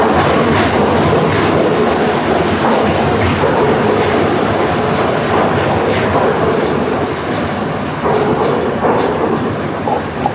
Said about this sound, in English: you heard the train going across a busy railway bridge